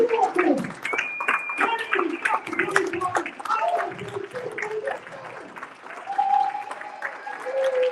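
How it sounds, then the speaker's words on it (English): Audience applause in a seminar hall, a dense run of clapping that carries through the whole stretch, mixed with cheering and voices rising over it. "I want you guys to give yourself a round of applause"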